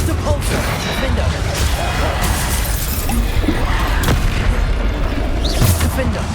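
Bombarda spell blasts explode in Hogwarts Legacy combat, loud crashing booms and shattering hits repeating over a dense battle din, with a character's voice shouting.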